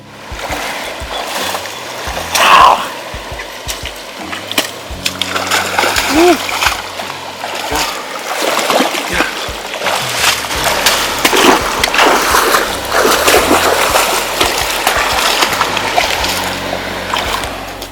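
A flathead catfish thrashing in creek water beside the bank, loud splashes and sloshing bursting repeatedly under excited voices talking over the action.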